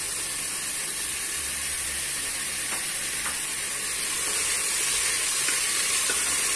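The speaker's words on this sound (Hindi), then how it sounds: "5 से 7 मिनट तक इसे भूनें। बीच बीच में सब्जियां चलाते रहें, चला चला कर भूनें अच्छे से।" Ginger and green chili frying in oil inside a pressure cooker over a medium flame, a steady close sizzle and hiss with faint scrapes of stirring throughout, no voices.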